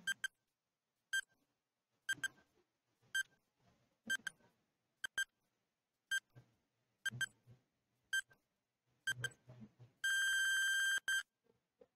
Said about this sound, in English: You have 10 seconds to type your questions and the moderator will consolidate your question. The timer starts now.